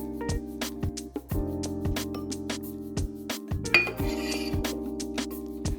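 Gyudon beef, onions and broth being served over a bowl of rice, with light clinks and scrapes of utensils against the dish over steady background music.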